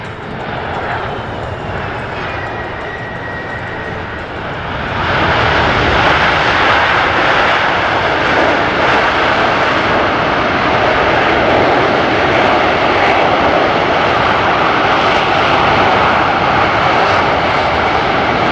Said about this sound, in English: the crew will demonstrate a very short landing distance of the C-17